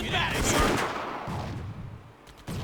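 Gunfire mowing down an enemy in Blitzkrieg 2 during a Philippines defence mission, a dense rattling burst up front that thins into scattered shots and fades, then a sudden final crack.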